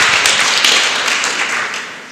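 An audience applauds after a speech by Diane Ravitch at an evening event for public schools, a dense, close burst of many hands clapping that holds steady and begins to thin toward the end.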